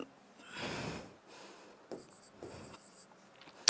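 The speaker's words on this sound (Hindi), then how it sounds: "ये शॉर्ट में लिख दे रही हूं मैं" A pen or marker scrawls short study notes in a few separate bursts of scratchy strokes, close and fairly quiet, ending with a sharp tap.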